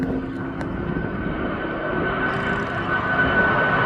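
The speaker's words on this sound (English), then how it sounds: "Here comes that Ryanair now, who's just coming out of here for Lanzarote." A Ryanair airliner departing East Midlands Airport for Lanzarote roars steadily at a distance, a broad continuous engine rumble that swells slightly toward the end, heard alone without speech.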